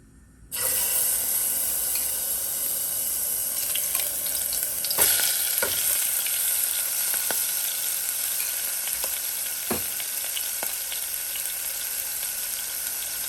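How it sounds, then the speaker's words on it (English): Shrimp frying in avocado oil in a pot: a loud, steady sizzle that bursts up as the shrimp go in and then holds, with a few sharp clinks of a utensil against the pot. "So we have some of the avocado oil in already. I'm just going to add my shrimp."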